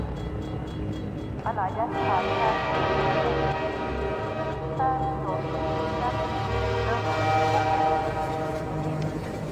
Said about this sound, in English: There should be a train coming.